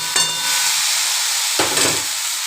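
Small shrimp hitting a hot frying pan, heard as a loud, bright sizzle that swells at the start and again midway, likely as the pan is stirred, with no voices.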